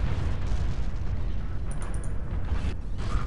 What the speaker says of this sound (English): He was caught in explosion!